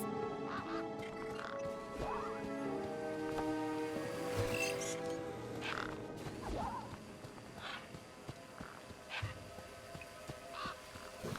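Birds quacking and honking in the video game Beyond a Steel Sky, repeated calls over a dense, busy background with clanks and crashes throughout.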